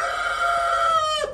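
A golden partridge rooster crows close by, one sustained, strongly tonal call held for over a second before breaking off abruptly at the end.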